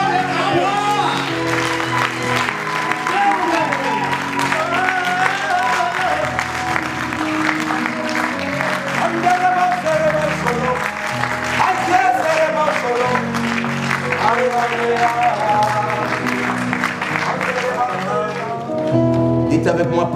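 A church congregation claps and cheers loudly through a celebration service, sustained dense applause mixed with music and shouting voices throughout.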